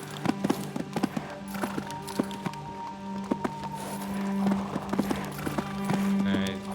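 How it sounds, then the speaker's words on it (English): Horse hooves clip-clop in steady, evenly spaced beats in the video game Disciples: Domination, clear and close, running alongside low game ambience and a brief voice. "Our horse really knows how to swing his ass around."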